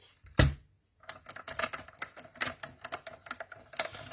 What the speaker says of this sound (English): Let's bring our mini machine over here. We're going to die cut her out.